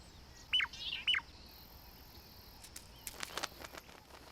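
A pair of shrikes duet in the African bush, two quick sharp calls in close succession, each answered almost instantly, followed by softer chirping and insect buzz in a quiet, faint outdoor setting.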